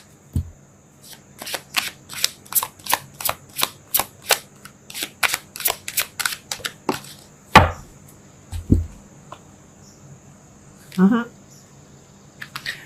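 Tarot cards are pulled and shuffled in a quick run of crisp, evenly spaced snaps and flicks, then a few louder isolated slaps, with a faint voice appearing near the end.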